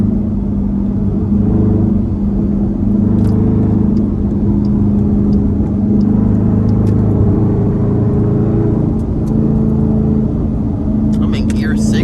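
Straight-piped Dodge Durango SRT engine pulling hard through the gears, a loud, steady low rumble that holds for the whole stretch from inside the cabin, with faint ticks and rattles above it.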